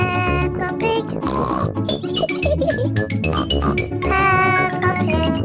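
Cartoon pig characters from Peppa Pig snort and oink, the oinks voiced by actors imitating a pig. Several bright, repeated snorts come close together over busy tonal background sound, loud and near.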